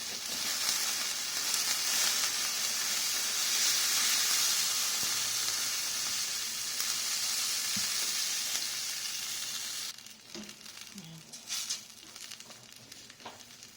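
Chicken adobo with soy sauce, salt, chicken cube and Sprite sizzles and fries steadily in a pan, a loud continuous hiss that drops off near the end, leaving quieter bubbling and a few light clinks.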